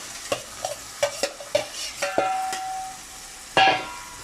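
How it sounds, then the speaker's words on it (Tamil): Fried raw banana pieces are tipped into bubbling gravy where the oil has separated and stirred, bringing a series of spaced spoon knocks and scrapes over a quiet sizzle, ending with a louder splash and stir. "அந்த டைம்ல வந்து நம்ம வறுத்து வச்சிருக்க வாழைக்காவை சேர்த்துக்கலாம்"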